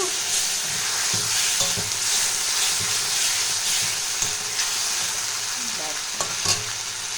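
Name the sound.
water added to hot pan sizzling while cooking katla fish curry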